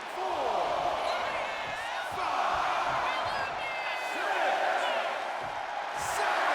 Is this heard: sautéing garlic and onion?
no